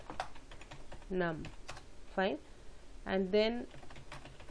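Typing on a computer keyboard while writing C++ code: quick, light clicking keystrokes run throughout, close and moderate, with someone speaking briefly over them.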